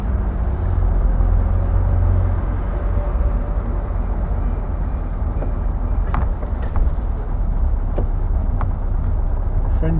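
A Ford Capri drives along on very light throttle, a steady low engine and road rumble heard from inside the cabin with a few faint clicks and rattles.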